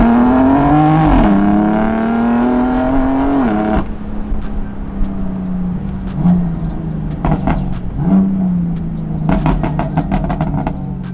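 A BMW M4 with a stage 1 tuned S55 biturbo engine, downpipe and pop map revs hard close by, the pitch rising and falling through several pulls, with crackling exhaust pops bursting between revs.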